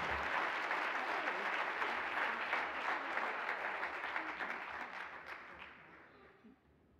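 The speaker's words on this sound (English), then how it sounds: "let's give her another round of applause for this well-deserved honor" An audience applauds an award recipient at a ceremony, a full room of steady clapping that holds for several seconds, then gradually thins and fades out.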